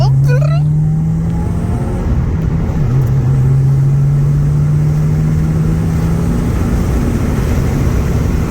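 A 2020 Subaru WRX with a new SPEC D Tuning cat-back exhaust drones loudly and steadily at close range, a low continuous rumble with a faint rising whine at the start.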